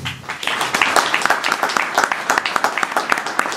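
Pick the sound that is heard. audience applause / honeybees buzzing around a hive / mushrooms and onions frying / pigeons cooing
audience applause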